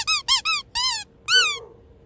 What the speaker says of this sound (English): You squish it and it squeaks.